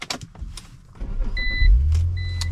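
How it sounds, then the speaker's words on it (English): Inline-six engine of a 2006 BMW X3 3.0i cranking and catching, heard close up from inside the car: a short starter whine, then a low engine rumble that swells and settles into a steady idle. "let's get her started up"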